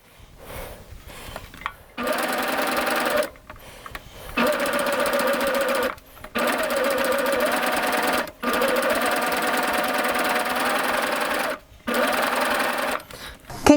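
A serger sewing machine stitches fabric in a dense, steady high-speed whir, running in several long bursts separated by short stops, close and loud with no talk over it.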